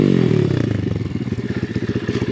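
A Chinese dirt bike engine revs hard in second gear during hard enduro riding, a loud, close, pulsing motor note that climbs in pitch, then settles into a rhythmic throbbing chug.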